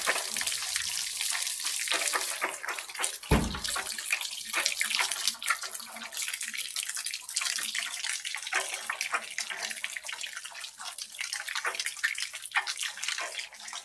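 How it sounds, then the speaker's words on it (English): Water rushes steadily through a hose, flushing black sludge out of a home heating system. The splashing, gushing flow is continuous and fairly close, with no talking. "easy way to flush out your system"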